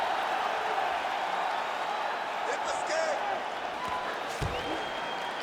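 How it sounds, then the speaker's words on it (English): A UFC 326 arena crowd roars steadily in a dense, continuous wash of cheering and applause from the stands, with a commentator talking over it. "big pop from the crowd as they get back to their feet"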